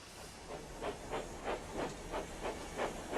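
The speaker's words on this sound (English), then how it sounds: "When Thomas stops, he wishes steam" A steam locomotive hisses in a regular run of soft puffs, about three each second, with the exhaust sounding moderately close and no voices over it.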